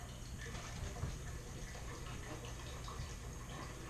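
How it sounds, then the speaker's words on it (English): Water runs steadily from a tap into a beaker for a homebrew yeast starter, a quiet continuous gurgling fill with no talking. "go fill it up with 1 can of water"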